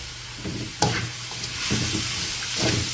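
Onions with salt sizzle steadily in a pan while being cooked for a Kerala-style pork roast, a continuous close frying hiss broken by several scraping stirs of a spoon, no voices.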